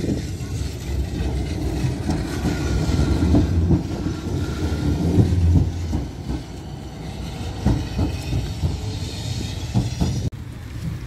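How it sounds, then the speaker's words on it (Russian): A Bogatyr-M 71-923M low-floor tram rolls along its rails with a steady, loud rumble and rhythmic clatter of wheels over track joints, heard from on board without talk. "71-923-М низкопольный трамвай."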